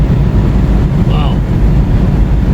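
Strong, gusty wind buffets a moving boat, a loud broadband roar hitting the microphone steadily throughout with no break.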